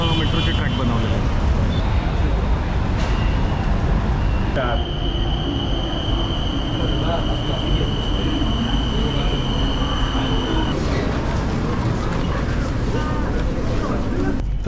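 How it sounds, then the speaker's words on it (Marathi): A metro train in Thailand rides between stations, a steady loud rumble and rattle of the carriage with a long whining tone, heard from inside while people talk over it. "तर फायनली आम्ही मेट्रोने चाललो आहे प्रवास, एक 2-3 स्टेशनचा."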